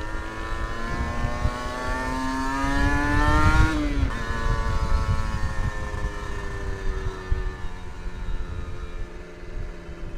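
A 2012 Kawasaki Ninja 250 SS motorcycle engine drones steadily while riding, its revs climbing to a peak, dropping sharply at a gear change, then pulling again, loud and close with wind rumble underneath.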